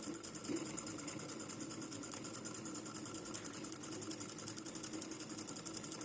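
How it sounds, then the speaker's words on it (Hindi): A small homemade DC electric motor spins a little fan, giving a steady, fast mechanical whir and buzz with a thin high whine, close up and continuous, with no talking. "तो देखो पंखा घूमने लग पड़ा है।"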